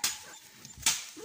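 Hunting hound yelping and barking at a cave during a hunt, two sharp bursts roughly a second apart, fairly close, with no talk over them.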